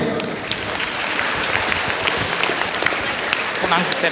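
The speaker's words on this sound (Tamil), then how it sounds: "அவருக்கு ஒரு கைத்தட்டல்" Audience at a motivational talk gives a round of applause, dense continuous clapping throughout, fairly loud and close, with faint voices mixed in the crowd.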